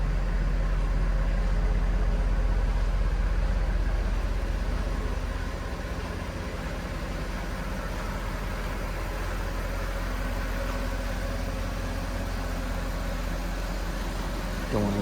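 A 2009 Mercedes-Benz SL63 AMG with just under 81,000 miles idles after start-up, giving a loud, steady, deep engine rumble that eases slightly after a few seconds and holds even for the full stretch, with no talking.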